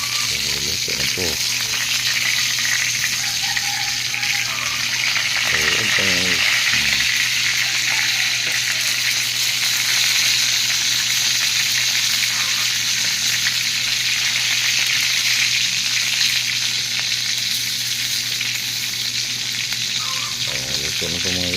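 Bullet tuna (tulingan) frying in a pan, a loud, steady, unbroken sizzle of hot oil that carries on throughout, with faint stirring or scraping noises now and then beneath it.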